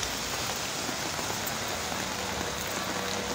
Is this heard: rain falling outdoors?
yes